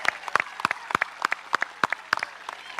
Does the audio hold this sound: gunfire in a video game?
no